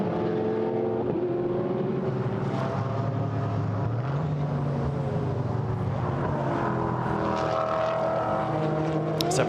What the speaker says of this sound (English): That magic noise as it comes charging out of the Virage du Pont, being chased hard by Charlie Fagg